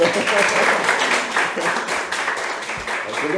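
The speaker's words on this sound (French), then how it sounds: "On peut applaudir quand même." Churchgoers at a Lille evangelical service clap for a couple marking forty years of faith, a short, moderately loud burst of applause that thins out, with a voice speaking over it.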